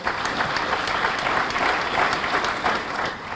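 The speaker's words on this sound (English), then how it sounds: "give a round of applause for the Superintendent of Schools" A crowd at a high school athletics hall of fame induction ceremony applauds the Superintendent of Schools, sustained clapping from many hands that swells slightly in the middle and carries on without talk.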